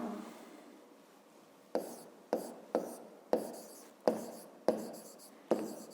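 A pen scratches on paper while a geometry exercise is written out by hand, faint and close, with short repeated strokes in an uneven rhythm.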